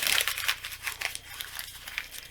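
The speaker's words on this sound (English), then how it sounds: "when you crumple it up and turn it into a ball" Paper is crumpled into a ball by hand, giving close, soft crinkling and crackling bursts that fade slightly over a couple of seconds, with no talking.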